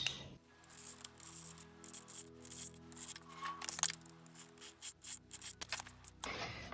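Scissors snip through adhesive tape on a paper craft advent calendar, making quiet, close rubbing and crisp clipping sounds. A few small snips and tears stand out over a faint background hum.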